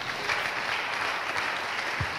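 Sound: congregation applause

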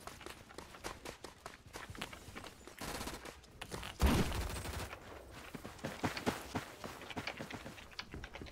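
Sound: gunfire in a video game

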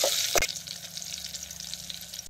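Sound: stirring mustard seed and garlic tempering in hot oil

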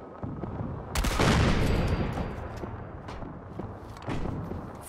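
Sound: artillery cannon weapon firing in Fallout 4 video game

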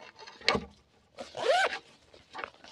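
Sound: zipper of a bag pocket being opened

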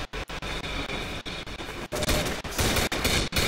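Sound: gunfire from a powerful gun in video game Codename Cure

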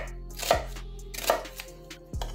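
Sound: knife chopping an onion

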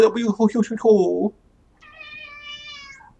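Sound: cat meowing

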